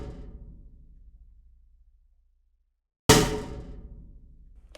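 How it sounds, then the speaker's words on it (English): A metal bucket struck once with a stick or mallet gives a loud, sharp clang that rings and slowly decays, following a fading tail of an earlier strike and a moment of silence. "metal bucket with a stick"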